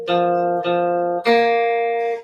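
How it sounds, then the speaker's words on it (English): Three sustained instrumental notes played one after another, the first two alike and the third a perfect fourth higher, forming a rising leap, with no talking. "that is the sound of a fourth"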